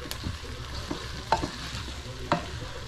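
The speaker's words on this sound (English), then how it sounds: "Go ahead and add the garlic in there. Give it a stir." Garlic stirred into a frying pot for a longnose gar gumbo, with a steady sizzle under three sharp spoon scrapes against the pot at regular intervals.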